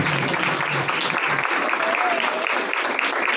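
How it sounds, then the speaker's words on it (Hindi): Church congregation breaks into loud, sustained applause that fills the room steadily for several seconds, dense and continuous, with a voice carrying over it. "जोरदार तालियां"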